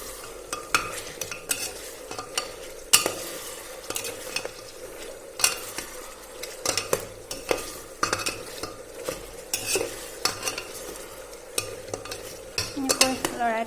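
Mutton and potatoes frying in a pan over a medium gas flame are stirred with a metal utensil, repeated scraping knocks against the pan over a continuous soft sizzle, close up with no talking.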